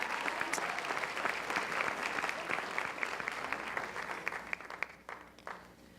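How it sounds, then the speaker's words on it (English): An audience at a high school honor society induction ceremony applauds with steady, dense clapping that thins out and fades over the last second or so. "a nice round of applause for Mrs. Gleavy"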